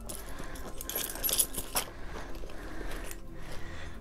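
A bunch of keys jangling and clinking as they are packed into a Saint Laurent Vinyle round camera bag, several bursts of metallic rattling close up, with no talking.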